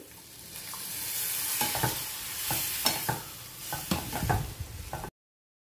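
Tamarind juice, pressed thick, goes into a pan of elephant yam and Malabar spinach mustard curry, stirred with a steady sizzle and repeated scraping strokes of the spoon, close and fairly loud, with no talking.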